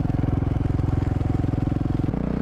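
A motorcycle engine during a wheelie, a rapid pulsing exhaust thrum held steady then shifting to a slightly different note near the end, close and loud with no talking.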